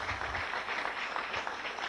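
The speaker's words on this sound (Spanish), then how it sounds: "Denle un aplauso al Señor." Steady applause from a church congregation, dense and continuous clapping at moderate volume throughout, with no talking over it.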